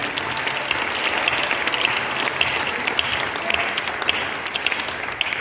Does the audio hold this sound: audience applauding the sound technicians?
yes